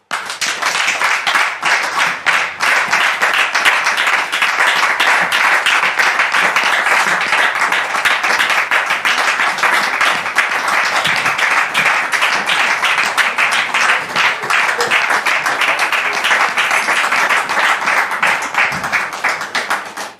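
A studio audience on a church-themed talk show applauds continuously and loudly to welcome a guest, the dense clapping holding steady for about twenty seconds.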